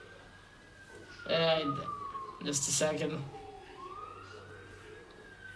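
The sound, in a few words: ambulance siren passing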